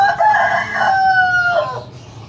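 A young rooster gives one loud, close crow, a rising then drawn-out call lasting about two seconds, with nothing else heard.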